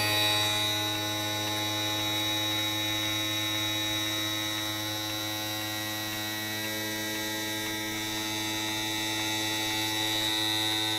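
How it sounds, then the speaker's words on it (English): A 1989 Dodge W100 windshield wiper motor runs on its own in a steady, unbroken electric hum that holds at an even level throughout, with no voices. "I'll let it run for about 5 minutes. Yeah, the motor ran and it didn't get hot."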